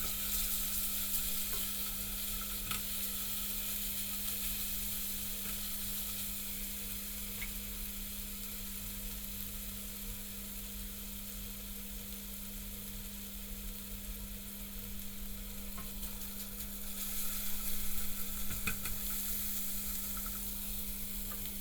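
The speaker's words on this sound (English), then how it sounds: "Stir in the garlic and ginger paste and add the chillies and cook for around 30 to 60 seconds." Garlic ginger paste and chillies frying in a pan for a British Indian restaurant style mango chilli chicken, a steady close sizzle with occasional stirring, a constant hum underneath, no talking.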